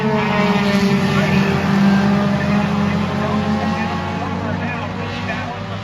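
Pure stock race cars roar around the oval at Monadnock Speedway at the start of a feature race, a dense, steady engine drone from a distance with rising pitch, under a loud announcer's commentary.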